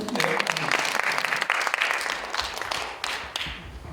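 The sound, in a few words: audience applause for a professor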